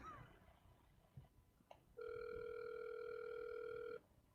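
Outgoing call ringing on a telephone: a single steady electronic ring tone lasting about two seconds, clear and close, after brief quiet handling noise.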